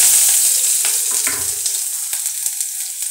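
Shallots, coriander leaves, curry leaves and green chillies sautéing in a hot pan for egg idli upma, giving a steady close crackling sizzle with a few soft stirring scrapes and no talking.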